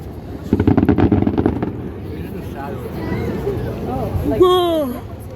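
Fireworks crackle in a rapid burst of sharp pops at close range, followed by whistling, whining rockets and fizzing, with people talking in the background.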